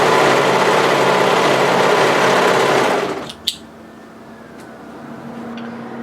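An overlocker runs fast and loud for about three seconds while serging the crotch seam of a bodysuit, then stops abruptly, followed by a sharp click and a quiet hum.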